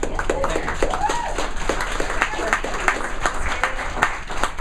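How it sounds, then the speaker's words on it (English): An audience applauds at a leadership event, with steady clapping running throughout alongside a talking voice. "Would you please give a round of applause for Stephanie Center?"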